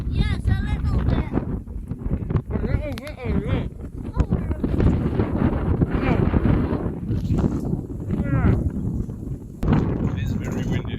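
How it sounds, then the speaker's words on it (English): Strong wind buffeting the microphone outdoors on a farm, a steady loud roar with gusty rumbles throughout, while people talk over it. "It is very windy, as you can see."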